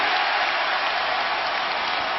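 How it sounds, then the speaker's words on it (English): A basketball arena crowd in Washington during a 2006 NBA playoff game against Cleveland roars and applauds in a dense, steady wash of cheering, loud and continuous throughout. "the crowd is into it here in Washington"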